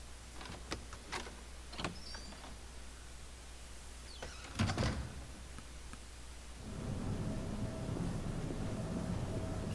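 Double doors swing open in the survival horror game Resident Evil Zero, a mechanical creak with clicks and a louder clunk near the middle, after which a steady low room hum takes over.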